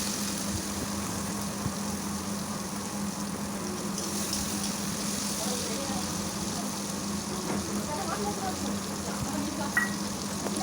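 Fish that has already been fried sizzles in a pan as onion, tomato and chilli go in for a Bengali fish curry with taro, a steady low frying hiss with a constant hum running underneath and a few faint clicks.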